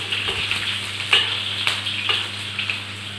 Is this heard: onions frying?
yes